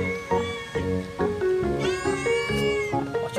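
A cat meows loudly and close in several drawn-out, whining calls that run together in a continuous yowling complaint.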